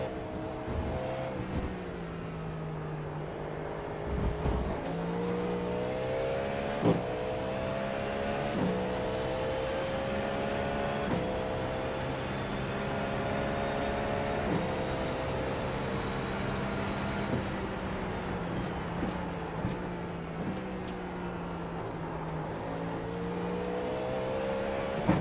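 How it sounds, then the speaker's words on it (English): A race car driven fast around Sebring in the iRacing sim, its engine a steady loud drone with rising and falling pitch through gear changes and corners, running continuously at close range. "He's trying to drive a car fast over here."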